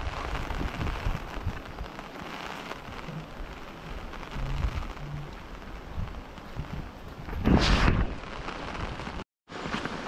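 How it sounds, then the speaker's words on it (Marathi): Heavy monsoon rain pours down over flooded fields in the Konkan region, a dense continuous hiss with a louder gusty surge near the end and a brief dropout. "इतका पाऊस पडतोय."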